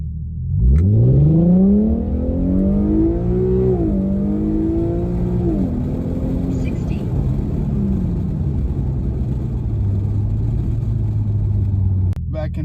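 An Infiniti Q50 in standard drive mode accelerates hard, its engine note climbing through the revs with a couple of shifts, then settling into a steady mid-pitched drone. A voice talks over it.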